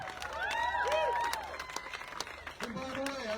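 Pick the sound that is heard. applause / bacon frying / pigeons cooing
applause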